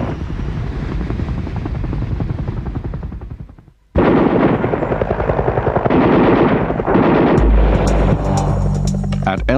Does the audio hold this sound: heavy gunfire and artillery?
yes